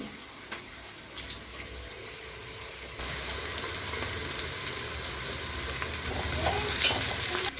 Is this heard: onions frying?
yes